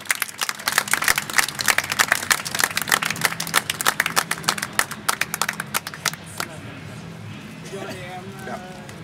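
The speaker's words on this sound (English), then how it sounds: "So give them a round of applause." Clapping at a hacking competition event: individual sharp claps spaced out in a loose rhythm for about six seconds, then fading away as a faint voice and room noise take over.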